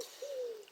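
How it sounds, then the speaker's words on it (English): Pigeons coo outdoors in a single soft, drawn-out call that rises slightly and fades, heard faintly at a distance against quiet background air. "Hopefully the birds don't get in the way"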